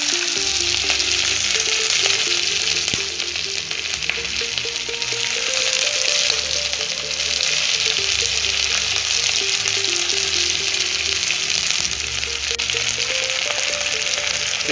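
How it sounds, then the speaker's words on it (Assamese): Onions sizzling in hot oil for an Assamese mutton curry, a loud, continuous close-up crackle and hiss with faint steady tones underneath. "ইয়াৰ পৰা তেল গৰম হৈছে, এতিয়া পিঁয়াজ দি দিম।"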